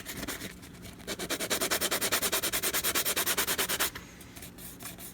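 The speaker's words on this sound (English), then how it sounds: "I can like get a sander and sand down those knobs a little." A handheld sander grinds down the plastic knobs on a Bissell vacuum handle, a steady pulsing rasp lasting about three seconds and then cutting off, close and loud with no talk.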